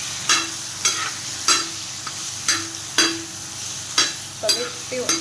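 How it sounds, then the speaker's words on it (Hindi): Chicken sautéed in a pan for a chicken bharta, with a soft background sizzle and a regular series of scraping stirs, about one a second, close and with no talking. "चिकन को भी हम 2 मिनट तक इसमें सौते करेंगे।"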